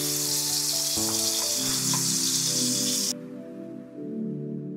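Garlic sizzles in hot oil in a pan, a bright steady crackle that stops abruptly partway through while a low musical background continues.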